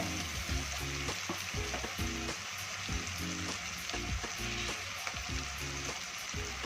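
Tomato frying in a pan for egg chops gives off a loud, continuous sizzle, with repeated stirring clinks and scrapes at a steady rhythm close by.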